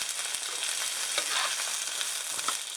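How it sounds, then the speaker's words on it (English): Tomato sauce for pizza sautés in a pan with a steady, dense sizzle and a few soft stirring scrapes, close and continuous with no talking. "sauteing quite nicely here"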